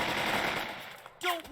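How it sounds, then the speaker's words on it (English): Bursts of suppressing machine-gun fire from the tactical war game Burden of Command, a loud continuous rattle of rapid shots that breaks off briefly before more fire resumes. "We'll lay down some suppressing fire."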